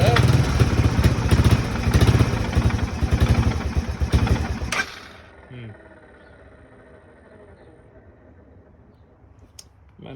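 A Honda 300 Fourtrax ATV engine runs loud and rough with a rapid chugging beat for about five seconds, then stalls and goes quiet, leaving faint clatter and low background sound.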